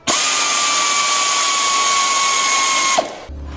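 A power tool tightens bolts while refitting the track on a Ski-Doo snowmobile, a loud, steady whine running about three seconds alone before cutting off abruptly.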